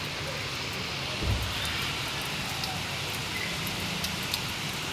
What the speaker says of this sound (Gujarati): ફૂલ વરસાદ આવે છે